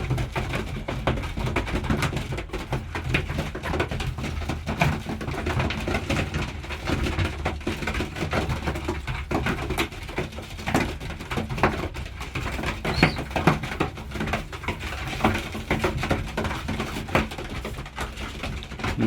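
Pigeons in a loft being fed give soft, scattered coos amid a steady stream of light taps and pecking clatter, faint and close, with no talking.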